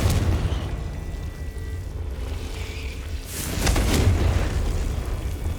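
Confringo blasting spell explosion in Hogwarts Legacy, a deep rumbling boom swelling over a steady roar, with a brighter burst near the end.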